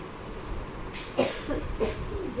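An elderly woman coughs indoors, a few hoarse bursts in quick succession standing out clearly over a quiet room.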